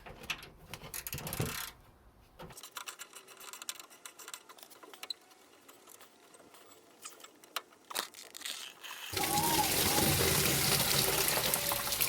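Coolant from the top hose of a Triumph Stag drains with an uneven trickle, then breaks into a loud, steady splashing gush over the last few seconds.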